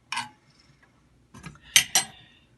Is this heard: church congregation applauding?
no